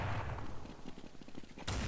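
Rapid gunfire in Counter-Strike 1.6, a loud opening shot followed by a steady run of quicker, quieter rounds and another sharp blast at the end.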